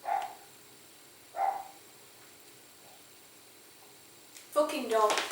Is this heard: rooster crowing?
no